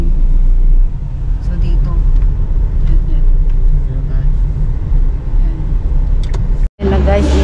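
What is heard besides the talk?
traffic on the highway by a mall parking lot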